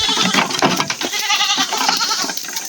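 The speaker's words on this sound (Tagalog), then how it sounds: "Ayan mga kambing natin." Several goats bleat close by on a backyard farm, a run of overlapping wavering calls with no gaps, loud and clear with no talking over them.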